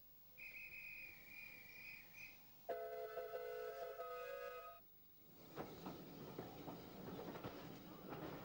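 The royal steam train, hauled by the locomotive Norwegian on the line to Bodiam, sounds a sustained whistle, then a second chord-like whistle, followed by rumbling chuffs and rail noise at a distance.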